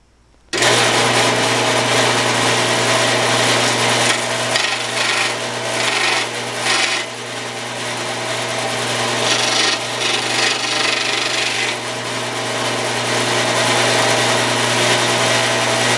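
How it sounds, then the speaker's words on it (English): A belt sander grinds a carbon fiber bracket made with West resin, starting abruptly and running loud and steady for the whole stretch with a constant motor hum under shifting rasping friction. "we'll take that over to the belt sander next"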